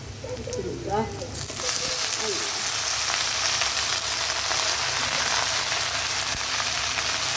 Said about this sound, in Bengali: মরিচ পেঁয়াজ ভাজা হয়ে গিয়েছে এখন এর মধ্যে শাকটা দিয়ে দেবো